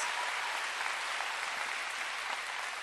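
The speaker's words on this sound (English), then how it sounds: "Please clap it up again for these amazing state representatives." Applause from an audience at a political rally against Texas redistricting, honoring state representatives: steady, dense clapping held at a moderate distance, continuous and even throughout with no voices on top.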